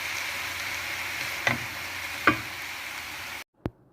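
A spatula stirs mixed vegetables for spring roll filling in a hot pan, with a low steady sizzle broken by two sharp scraping clinks and a final knock after the sound cuts out.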